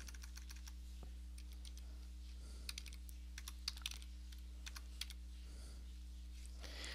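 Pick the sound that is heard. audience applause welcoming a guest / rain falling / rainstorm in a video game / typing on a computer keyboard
typing on a computer keyboard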